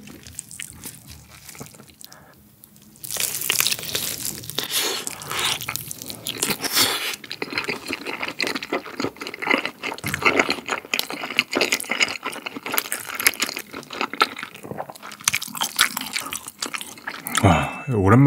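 Jamaica-style chicken legs with cream tteokbokki and added bunmoja and bacon are eaten up close, with repeated wet bites, crunches and chewing sounds and occasional slurps. A brief voice is heard at the start.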